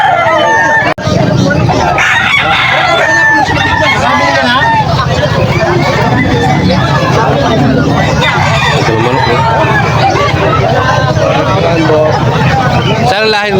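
Roosters crow repeatedly amid a noisy crowd of chattering people at a market in Bocaue, Bulacan, with clucking fowl mixed into the busy background.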